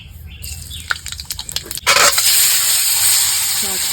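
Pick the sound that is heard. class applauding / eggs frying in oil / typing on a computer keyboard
eggs frying in oil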